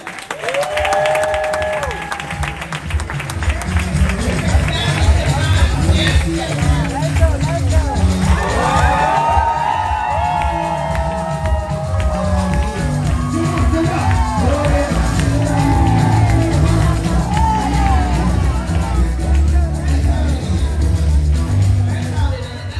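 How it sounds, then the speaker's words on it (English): A large crowd applauds and cheers continuously, with whoops and shouts rising over steady clapping for the whole stretch. "Let's give a rapturous welcome, round of applause for Davido."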